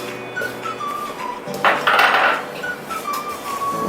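Besan and boora sugar being mixed in a bowl for besan laddoos, with close clinks and scraping of a spoon against the bowl and a brief louder rattle partway through, no talking.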